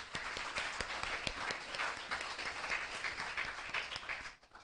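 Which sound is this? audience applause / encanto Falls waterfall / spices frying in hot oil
audience applause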